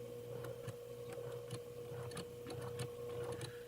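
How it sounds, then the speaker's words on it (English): Straight stitch sewing machine running a seam along a ruler guide, a faint steady mechanical hum with soft rhythmic ticking and clicking, heard alone. "That's all this machine does, straight stitch."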